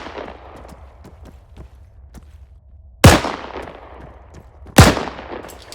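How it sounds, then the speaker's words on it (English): Two loud, sharp gunshots from the video game Arma 3 with the IFA3 Lite mod, spaced about two seconds apart, each with a trailing echo, over a faint background of small clicks and movement. "So let's shoot these guys."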